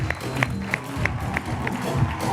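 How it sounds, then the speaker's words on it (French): Audience applause greets a singer as he is introduced at a stage show, with sharp claps landing in a fairly regular rhythm over a murmuring crowd and some voices. "On l'applaudit très fort"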